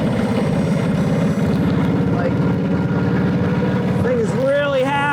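A 90-year-old motorcycle engine runs steadily on a dangerous road, cruising between second and third gear with an even, throbbing drone that stays loud and close, and a voice briefly rising near the end.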